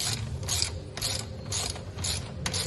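Ratchet wrench turning a greased bolt on the rear suspension linkage of a Ninja 300 motorcycle resting on its side stand, close rapid clicking in about five even bursts.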